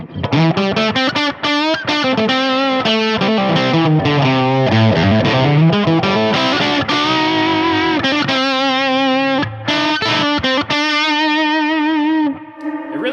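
Distorted electric guitar through a Mesa Boogie Express Plus 5:25 amp's lead channel plays a sustained melodic lead line with bent, ringing notes, reverb and a few brief pauses, loud and up front, no talking.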